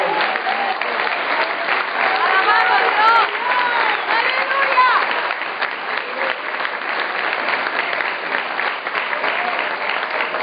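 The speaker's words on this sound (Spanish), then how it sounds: "déjame dar un aplauso fuerte al Señor." A church congregation at an evangelistic service breaks into loud, sustained applause, a dense, steady wash of many hands clapping together at close range throughout, with no individual voices standing out.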